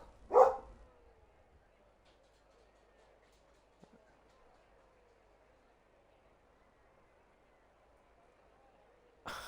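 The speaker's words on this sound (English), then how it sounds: "I love getting interrupted by my dog." A dog barks once, loud and close, at the start, then a long stretch of quiet room hum follows, with another short burst of sound near the end.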